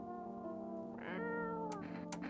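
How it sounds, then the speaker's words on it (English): A cat in the video game No I'm Not A Human meows while being petted, a few clear, close drawn-out mews over a steady low background hum, with no voices. "You reach out and pet the cat."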